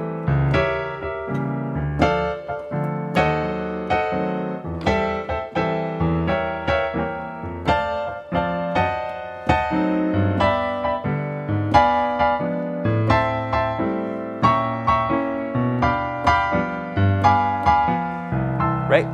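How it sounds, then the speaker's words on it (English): Solo piano in stride style, a bouncing left-hand bass alternating with chords under full right-hand chords, plays steadily and close for the whole stretch with no talking. "Now, if we were to play these right hand chords with a left hand stride, it would sound something like this."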